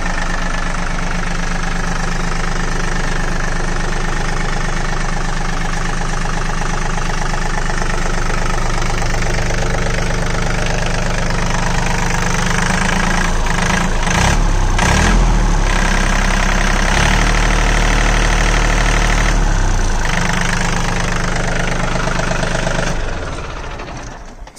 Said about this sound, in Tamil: 1500 ஆர்பிஎம்ல இந்த இன்ஜின் வந்து பக்காவாக ஒர்க் ஆகும்.